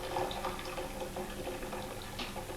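Hot water pours and splashes steadily into a large wash basin, a continuous bubbling liquid sound with small gurgles, close and moderately loud, no voices.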